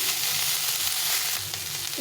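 Cauliflower frying in spices in a pan gives a steady, close sizzle that runs unbroken throughout, with no talking.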